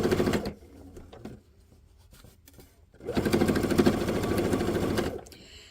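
A sewing machine stitches piping around the edge of a quilt-block pillow top. Two rapid, close mechanical bursts of stitching are separated by a quieter pause, and no one speaks.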